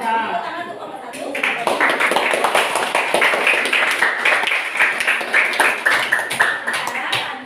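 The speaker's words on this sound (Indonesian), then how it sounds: "Tepuk tangan untuk kelompok 1." Students in a science classroom clap for the first group, a burst of quick, overlapping claps that starts after a second and continues steadily, with voices and some laughter mixed in.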